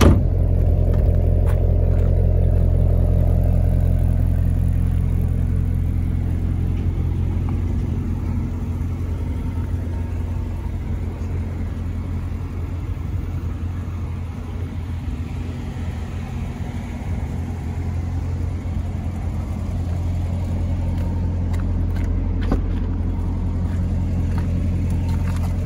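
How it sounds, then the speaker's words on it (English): A 2017 Chevrolet Corvette Grand Sport V8 engine and exhaust running with a deep rumbling idle, swelling slightly at the start and end, loud and close with no talking throughout. "Gorgeous exhaust."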